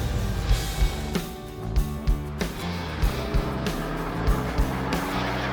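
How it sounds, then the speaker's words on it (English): Custom-built sports car engine while driving, a steady loud rumble with intermittent thumps and bumps from the road, continuous throughout. "This car's driving great."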